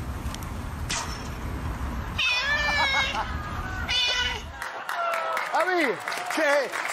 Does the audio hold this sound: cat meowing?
yes